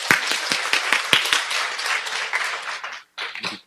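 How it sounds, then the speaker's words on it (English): An audience gives a keynote speaker a warm round of applause at a North American Taiwanese technology conference. Dense, steady clapping fills the hall, briefly drops out near the end, then returns for a final burst. "Please join me in giving a warm round of applause to Dr. Sony Sha."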